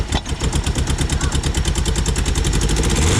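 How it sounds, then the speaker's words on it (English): A Toyota AE86 Levin engine runs rough with a fast, steady stream of pops and sputters from a backfire, loud and close throughout, with no voices. "It's backfiring like crazy."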